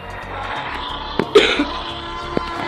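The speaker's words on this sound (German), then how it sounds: "Ich habe ein bisschen Husten auf jeden Fall." A person coughs a couple of short times and clears the throat, fairly close, with a steady low background hum and no speech.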